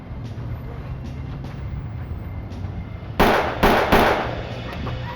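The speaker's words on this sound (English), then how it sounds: "One fired 3 shots" Three gunshots ring out in quick succession on a neighborhood street in Buffalo, sharp loud cracks closely spaced over a low, steady background rumble.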